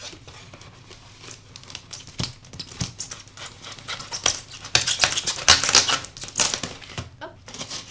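A knife cuts open a cardboard package during an unboxing of a microphone and tripod, with scraping, tearing and crinkling that builds from faint scratches to louder rustling bursts, close by and without talk.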